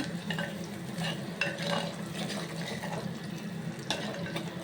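Onions frying until brown for a fish curry, a steady broadband sizzle with intermittent scraping stir strokes, close and moderately loud, no voices.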